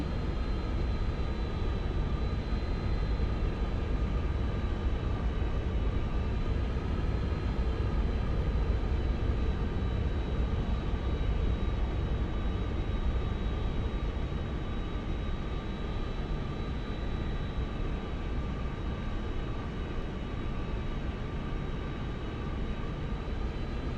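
A steady, loud jet engine roar from an aircraft in a VRChat flight world, a constant broadband rumble with a thin whine on top that holds unbroken throughout.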